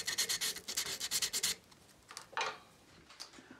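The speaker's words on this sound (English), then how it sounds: "I just wanted to add a few seconds of the hand sanding process to give you an idea of how time consuming this part" Hand sanding a carved wooden wolf sculpture: quick rhythmic rasping strokes, about a dozen in a row, then slower scattered rubs, close and moderately quiet with no talking.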